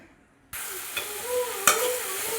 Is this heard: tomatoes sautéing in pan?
yes